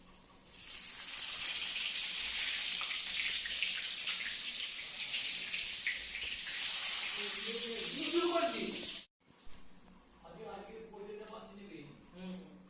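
Whole cumin seeds, dried red chillies and a bay leaf hit hot oil in a wok, giving a loud, steady sizzle for about nine seconds. A voice talks over the later part before the frying noise cuts off and speech continues.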